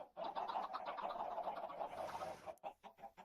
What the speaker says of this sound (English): Those chickens are noisy.